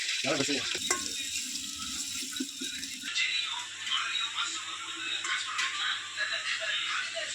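Large onions frying in hot oil for a Tamil non-veg meal, a bright crackling sizzle that grows denser after a brief start, close and fairly loud with a few clatters.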